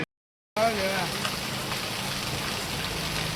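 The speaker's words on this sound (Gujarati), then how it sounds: "બહુ વરસાદ પડ્યો ને આજે નહીં વરસાદ જેવો વરસાદ" Dense, steady rain pours down, a continuous loud wash of drops that starts suddenly after a short moment of silence.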